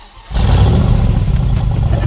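Carroll Shelby's NASCAR-powered supercar fires up with a deep engine roar that swells suddenly and then holds a loud, rumbling idle with slight revs, close and alone.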